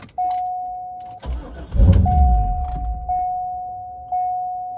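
A Corvette C5 LS1 V8 cranks repeatedly, its starter whining in steady pulses with a brief rough burst as it tries to catch but fails to start, then goes back to plain cranking, close and loud.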